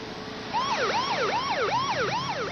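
A loud wailing siren sweeps up and down in a repeating cycle, close by and continuous, with no voices.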